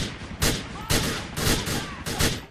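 Gunfire in Grand Theft Auto IV comes in four heavy, booming bursts at roughly half-second intervals, each a sharp blast with a short ringing tail.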